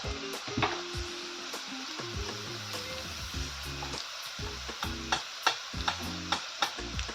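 Vegetables frying in a pan as red chili powder and turmeric are stirred in for a radish-pod curry, a low steady sizzle broken by repeated sharp taps and scrapes of a spoon against the pan.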